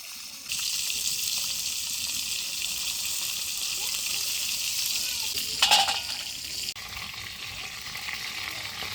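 Freshly caught pond fish fry in hot oil in a home kitchen, giving off a steady bright sizzle that carries on unbroken, with a short clatter of stirring partway through.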